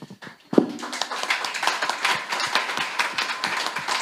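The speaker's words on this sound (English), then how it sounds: "please give a round of applause for the Lighthouse team." Audience applause at a hotel event where a blockchain and Helium mining talk is given, a dense burst of many hands clapping that starts abruptly and continues steadily at close range.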